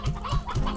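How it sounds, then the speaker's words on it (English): Chickens in the video game Slime Rancher 2 cluck in a quick run of overlapping, throaty calls, close and busy with no talk over them. "look at all the chickens in here"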